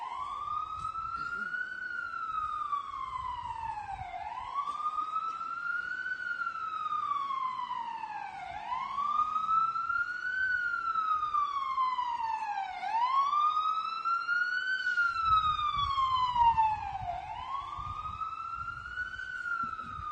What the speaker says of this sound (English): I'm going to wait till the ambulance passes